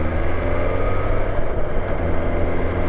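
A BMW S1000XR motorcycle engine drones steadily under way during a test ride, a loud, even low-pitched rumble with faint rev swells and wind roar, no voices.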